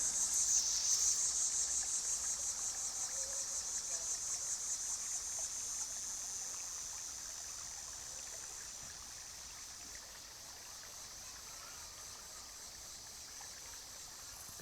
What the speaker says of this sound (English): I gotta hear this water flow.